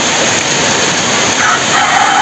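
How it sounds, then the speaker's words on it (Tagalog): Steady rain pours down continuously in a tilapia-farming setting, a dense, loud, even hiss filling the whole stretch with no pauses. "nag-start na ulit na umulan"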